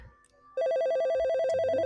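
A telephone starts ringing abruptly, a steady warbling electronic ringtone pulsing rapidly and loudly after a quiet start, with a faint low voice briefly underneath.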